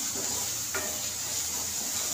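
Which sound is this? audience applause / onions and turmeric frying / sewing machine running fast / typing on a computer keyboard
onions and turmeric frying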